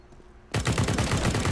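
Rapid automatic gunfire in a first-person shooter game starts suddenly after a short quiet moment, a loud, dense burst of repeated shots that continues to the end.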